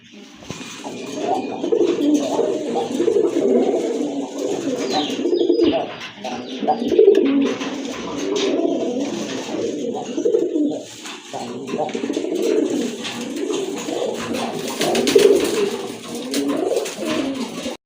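Pigeons coo continuously in low, throaty, overlapping calls close by in a loft where a female Rajgolla pigeon is kept, with faint clatter and rustling around them.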